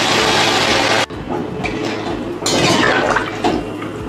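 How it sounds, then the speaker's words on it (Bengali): Broth poured into a pan of fish curry, a brief loud hissing splash at first, then a quieter bubbling and liquid sputtering with a few clinks, close by. "এবার আমি ঝোল দিয়ে দিলাম বন্ধুরা"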